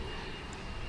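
A Spirit Airlines Airbus A320 jet at DFW International Airport, heard as a short, faint, distant rumbling roar of engines.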